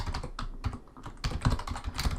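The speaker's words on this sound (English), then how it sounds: "and then we start typing" Close computer keyboard typing gives quick, uneven clicks of keystrokes in a steady patter with a few short pauses, alone without speech.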